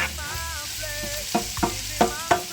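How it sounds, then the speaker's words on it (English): Vegetables for a shepherd's pie sauté in a pan with a soft continuous sizzle, broken by a few short scraping stirs near the end. "I'm gonna saute it in again"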